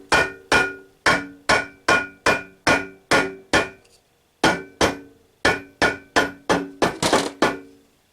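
Steady blows of a hammer ring out on the axle of an electric transport moped during a rebuild, a dozen or so sharp metallic strikes with a brief pause midway and a quick flurry near the end, close and clear.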